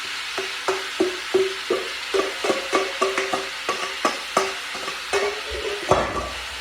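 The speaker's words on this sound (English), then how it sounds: "Now we'll fry these off" Food sizzles and clatters in a pan, with repeated stirring scrapes and knocks at an irregular rhythm, close by with no talking.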